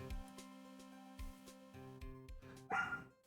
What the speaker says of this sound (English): there might be less Lila barking